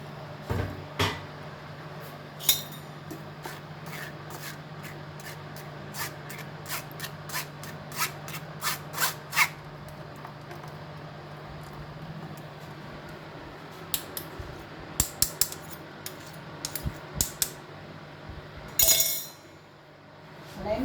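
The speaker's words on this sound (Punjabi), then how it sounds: "ਹੁਣ ਆਪਾਂ ਇਹਨੂੰ ਛਾਣ ਲਾਂਗੇ ਕਿਉਂਕਿ ਖੰਜੂਰ ਦਾ ਕੋਈ ਨਾ ਕੋਈ ਛਿਲਕਾ ਵਿੱਚ ਰਹਿ ਜਾਂਦਾ" Date milkshake strained through a strainer into a glass in a home kitchen: a run of light metallic clinks and taps, rapid at first, then sparser, over a low steady hum.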